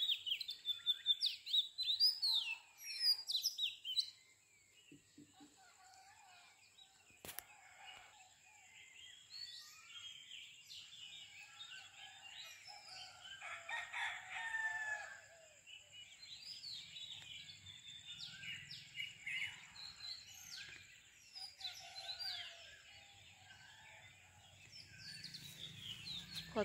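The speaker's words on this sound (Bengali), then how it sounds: "একটুখানি চুপ করে পাখিদের আওয়াজগুলো" Village birds at dawn chirping and calling in a busy, overlapping chorus of tweets and trills, loudest in the first few seconds and then continuing steadily at moderate distance with no talking.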